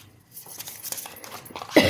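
A cough from a person with bronchitis, a single short raspy burst near the end, close and fairly loud after quiet breathing and rustle.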